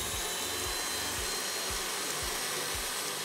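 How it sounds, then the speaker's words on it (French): A stand mixer running at fairly high speed whips panna cotta, giving a steady motor whir with rhythmic low thumps recurring about every half second. "je la mets au batteur tout simplement, et je mets mon batteur à vitesse assez rapide"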